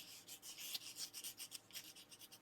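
Paper being rubbed all over the top of a winter scrapbook layout to distress it, a quiet, close, rapid back-and-forth scuffing with bright hissing strokes in a steady rhythm, no voices.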